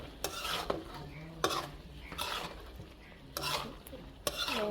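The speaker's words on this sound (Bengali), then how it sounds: "একটু কষানোর জন্য আমি চোলার আঁচটা একটু কমিয়ে দিছি" Prawn curry with potato being stir-fried in a pan over lowered stove heat, a spoon scraping and stirring in bursts roughly every second or two over a soft, steady sizzle, close and moderately loud.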